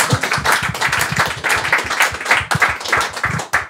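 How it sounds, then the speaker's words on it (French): An audience at a live music studio session applauds with quick, crisp, closely spaced claps that keep a steady, loud, near pace throughout. "vous pouvez l'applaudir."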